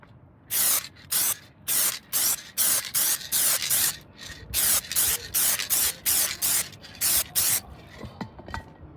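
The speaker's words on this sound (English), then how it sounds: "spray it with some plastic adhesion promoter, and then make it black." Short bursts from an aerosol can spray black paint onto a vinyl-covered speaker cover from a Mercedes R107, about a dozen loud, close hisses in quick irregular succession, each lasting roughly a third of a second, with faint handling noises between them.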